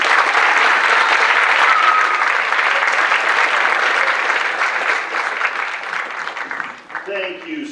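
Sustained applause from a college audience in a Queens College SEEK Program event hall, dense and loud clapping that fills the room before thinning out near the end as a voice begins.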